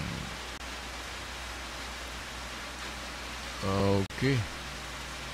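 Heavy rain makes a steady, dense hiss throughout, with a brief spoken word standing out near the end.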